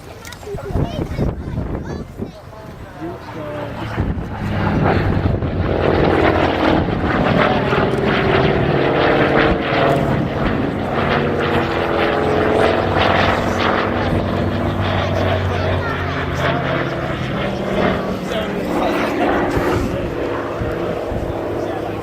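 A loud, steady roar of a Hawker Sea Fury's piston engine driving a five-bladed, 12-foot propeller, running continuously, close and droning throughout.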